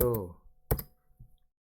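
A few quick computer keyboard keystrokes entering a product name into a cashier program, sparse clicks following a short burst of speech.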